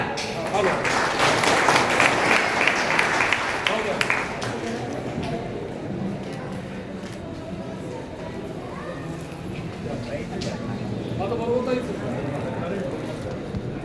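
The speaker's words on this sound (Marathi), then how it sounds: "टाळ्या" An audience at a political felicitation event breaks into applause, dense clapping for about four seconds that then fades into a murmuring crowd and a speaking voice.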